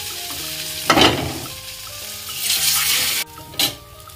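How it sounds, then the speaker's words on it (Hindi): Besan pieces sizzle in hot mustard oil in a pan, a steady close frying hiss with louder spikes as they are stirred or moved. "यहाँ एक पैन चढ़ा दी हूँ और उसमें थोड़ी सी सरसों का तेल डाल दी हूँ और अब ये मैं डाल दी।"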